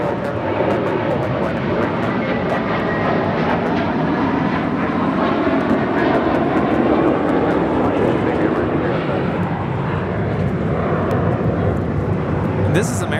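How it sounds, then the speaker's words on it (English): An American Airlines Airbus A321 jet takes off at LAX bound for JFK, a loud, sustained broadband engine roar filling the whole span at close range. "This is American Airlines 307 taking off to JFK on an A321."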